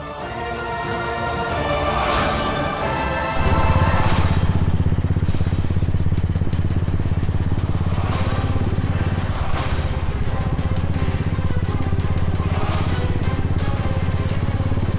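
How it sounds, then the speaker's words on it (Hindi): A motorcycle engine idles and revs with a steady, throaty rumble that continues throughout, growing louder and then holding close by. "ये तो रजत सिंह की बाइक है"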